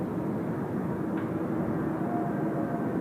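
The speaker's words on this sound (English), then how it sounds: "Double Korean A321 Neos." Two Korean Air A321neo airliners at Incheon give off a steady, muffled, distant roar of jet engines, a broad low rumble holding even for a few seconds with no voices over it.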